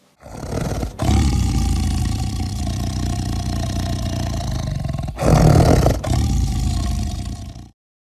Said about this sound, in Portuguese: O rugido do leão é um som forte.